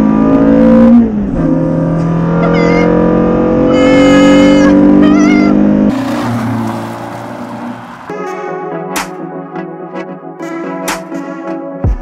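A modified, cammed Renault Clio 182 making about 194 horsepower, with a K-Tech splitter and spring wound pulley, revs up loudly close by in rising and falling sweeps before settling to a lumpy idle with sharp blips.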